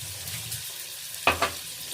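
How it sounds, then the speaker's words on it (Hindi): Hyderabadi korma masala sizzles and fries steadily in a pan after half a cup of water goes in, with a couple of brief louder stirring scrapes midway; no talking. "आधा कप पानी डालते हैं और फिर इसको हम भूनेंगे थोड़ा सा"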